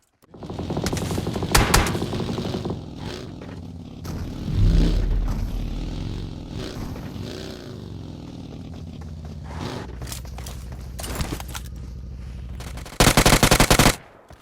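Video game gunfire rattles in scattered automatic bursts and single shots at close range, ending in a loud, sustained volley.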